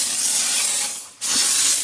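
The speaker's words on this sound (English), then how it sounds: "And now we're steaming the washrooms." A steam cleaner sprays steam inside an RV washroom, making a loud, steady close hiss that briefly dips and cuts out before resuming at full strength.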